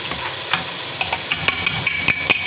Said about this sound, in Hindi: इसे भी मैं साथ ही शामिल करके फ्राई कर लूँगी